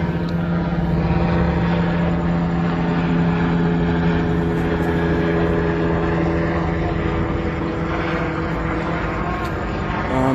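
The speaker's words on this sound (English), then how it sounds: "You can see the police chopper is still very much active." Police helicopter flying overhead during a street protest in Tucson, Arizona, its steady loud rotor and engine drone filling the air continuously without letup for the whole stretch, with no other sounds standing out.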